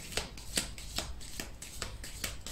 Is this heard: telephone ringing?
no